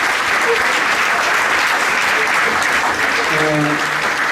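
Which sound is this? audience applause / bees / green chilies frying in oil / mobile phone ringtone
audience applause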